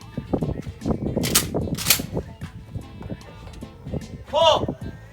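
Outdoor clay target shooting on a large cattle farm, with two sharp shotgun blasts cutting through close conversation among the shooters.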